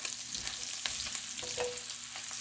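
Onions fry with hamburger steak in a pan over lowered heat, a continuous soft sizzle with occasional pops and faint stirring scrapes, no talking.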